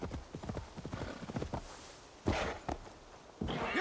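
Horse hooves clip-clopping in Assassin's Creed Valhalla, a quick steady patter of footfalls at moderate distance that fades midway, followed by a few louder thuds and rustles.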